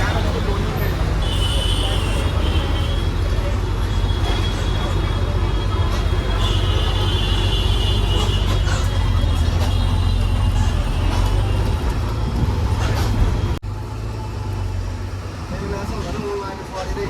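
An HRTC Himdhara bus pulls into Delhi's ISBT Kashmere Gate bus stand through busy traffic, with a steady engine drone and road rumble under crowd babble that drops slightly near the end.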